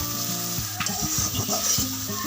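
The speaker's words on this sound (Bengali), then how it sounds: "এই যে ধন্দলগুলো আমি কড়াইয়ের মধ্যে দিয়ে দিয়েছি" Ridge gourd pieces sizzling in a hot wok, with a close, steady frying hiss broken by several sharp spatula scrapes and knocks against the pan, no voices.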